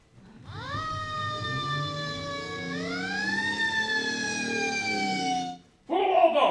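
Wailing police car siren rising and falling in long sweeping tones, loud and close for about five seconds before cutting off, followed by a brief burst of other sound.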